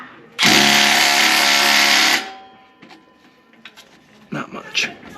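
A Milwaukee power tool whirs loudly for about two seconds on the exhaust bolts of a Toyota Tundra, then stops abruptly, followed by quieter clinks and handling noises.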